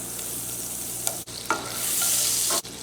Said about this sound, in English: Best way to scramble a couple eggs, put some butter in there.